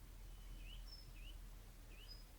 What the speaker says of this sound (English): I can hear the birds singing